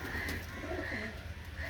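Oman teddy pigeons coo nearby in a soft, low, throaty murmur lasting under two seconds, with faint background noise and no talking.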